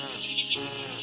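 Insects buzz and trill in a constant high drone among the trees along a forest pipeline trail in the Galiyat hills, steady and fairly loud with no break.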